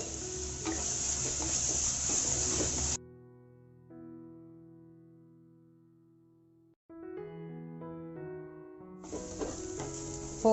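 Onions sautéing with salt in a pan for egg curry gravy, with two loud bursts of sizzling and stirring at the start and end, separated by a quieter stretch of steady tones.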